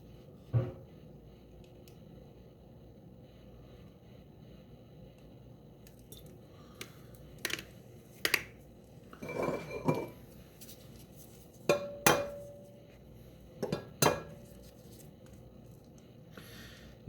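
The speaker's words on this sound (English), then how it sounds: "we're going to crack the eggs. And we're only going to do the yolk from 5 of the eggs" Eggs are cracked and their yolks separated by gloved hands, heard as a run of sharp close taps and crackles of shell with soft wet squishes between, after a long quiet stretch.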